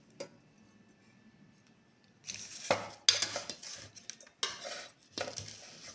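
A ladle scrapes and clinks against a pot while vegetarian fried rice with fried toppings is stirred, quiet at first, then several bursts of metallic scraping and tapping, close by with no voices.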